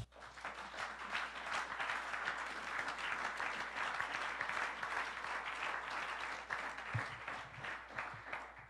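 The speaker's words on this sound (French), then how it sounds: "On va acclamer d'abord le roi des rois." A church congregation bursts into sustained, dense applause at a worship service, a steady wash of many hands clapping that holds for several seconds at an even level, with no voices rising above it.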